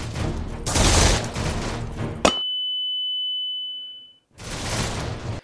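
A CS GO style video game flashbang effect: a sharp burst of noisy blast, then a thin, steady high-pitched ringing squeak that holds for about two seconds and fades into silence before the loud noise returns.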